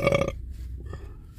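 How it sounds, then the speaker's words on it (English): A loud, close burp after eating pizza in a van, one deep, rough belch at the start trailing off into quiet. "them pizza, pizza burps are big"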